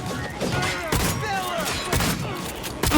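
Shotgun blasts ring out during a video game shootout, several heavy booms landing about a second apart over a continuous bed of game noise and music.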